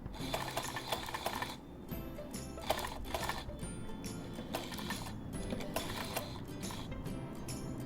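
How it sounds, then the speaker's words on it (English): A sewing machine stitches a curve in fabric, running in steady bursts with brief pauses as the fabric is maneuvered, close and clear. "so that you can keep sewing on the curve that you want to sew on"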